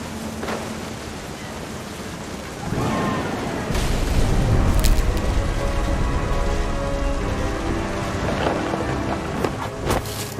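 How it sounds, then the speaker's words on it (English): Thunder rumbles in the video game What Remains of Edith Finch, a deep rolling boom swelling over steady heavy rainfall, with a few sharper cracks and a close, powerful low roar. "The thunder sounded much too close and full of angry power."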